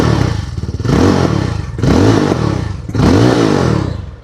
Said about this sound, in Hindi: सुनते हैं इसका एग्जॉस्ट साउंड जावा 42 का